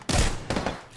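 Gunfire in the Apex Legends video game: a loud burst of rapid shots followed by a second shorter volley, close and unaccompanied by talk.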